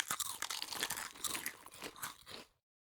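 Roasted meat being eaten by a character in the video game Medieval Dynasty, heard as a steady run of close, crisp crunching and chewing bites that stops abruptly before the end.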